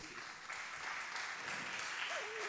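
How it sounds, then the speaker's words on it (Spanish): Audience at a talk breaking into applause, a soft, steady patter of many hands heard from a distance, with a brief voice rising near the end. "sí, podéis aplaudir"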